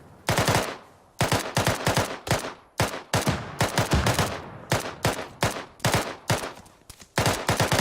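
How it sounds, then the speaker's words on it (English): Rapid bursts of suppressed weapon gunfire during platoon training outdoors, sharp cracks fired in quick strings and volleys with brief pauses between them, loud and close. "That's a suppressed weapon."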